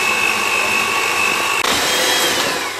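Electric mixer beating cake batter for a white chocolate vanilla cake until foamy, a steady loud whirring drone with a slight pitch change partway through, no talking.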